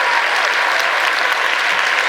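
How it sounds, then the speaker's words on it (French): A loud, sustained burst of applause from a conference audience for round table speakers at a sovereigntist gathering, dense clapping filling the full span. "on peut faire un tonnerre d'applaudissements à nos intervenants"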